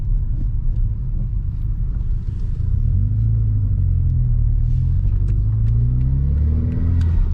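A Mk1 SEAT Leon Cupra R engine rumbles close by with a deep, steady idle, then its pitch rises and falls as it revs a few times.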